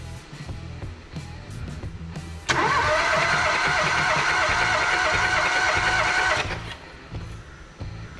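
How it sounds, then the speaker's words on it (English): A car engine cranks over steadily for about four seconds during a compression test, a loud, even starter whir that stops abruptly, with quieter workshop background before and after. "we'll get Mick just to turn the engine over there again now"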